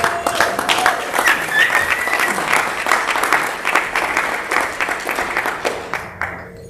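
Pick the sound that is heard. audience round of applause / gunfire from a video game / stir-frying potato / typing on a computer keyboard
audience round of applause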